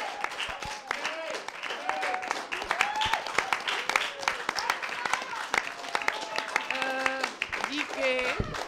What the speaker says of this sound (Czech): My tady velký aplaus, prosím vás, pro dámy